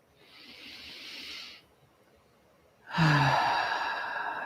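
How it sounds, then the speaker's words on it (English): A slow, deep breath drawn in and released during a guided self-soothing meditation, a soft airy inhale followed after a pause by a louder, fuller sighing exhale, close and alone. "Let's take a deep breath together."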